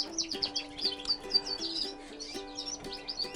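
Canaries at a bird show, chirping and tweeting in quick bright bursts at close range over a steady tonal hum, with no voices.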